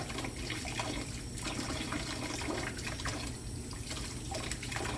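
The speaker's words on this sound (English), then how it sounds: "I'll turn the water off for now" Water runs steadily from a tap into a sink during cleanup after pottery wheel throwing, a continuous close splashing flow with no talk.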